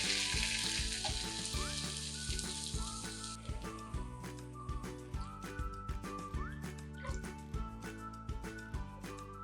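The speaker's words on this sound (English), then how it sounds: "Warm gently over very low heat, stirring as it heats." Corn soup of creamed corn, milk and consommé stock warming in a pot over very low heat, with a soft sizzle and repeated scraping stirs in a regular rhythm, close up and fairly quiet.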